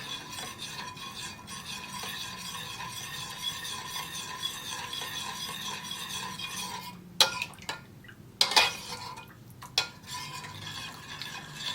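Steady scraping of a spoon stirring a lemon mixture around a pot, continuous and close, with a few sharper clinks against the pot's side near the end; no talking.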